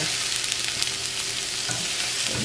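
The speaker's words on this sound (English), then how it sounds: "Just giving it a, a light toss so that the butter gets on all of the asparagus there." Asparagus sizzles and fries in butter in a pan, a steady bright crackle with soft tossing and stirring noises, close by and with no talking.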